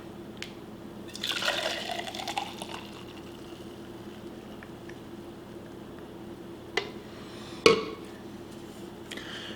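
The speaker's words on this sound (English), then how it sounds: "Once your keto coffee is thoroughly mixed, just add it to your favorite cup." Keto coffee pours into a Yeti cup with a soft, close liquid trickle and splash, followed by quiet handling and a sharp clunk of the cup, with no talk.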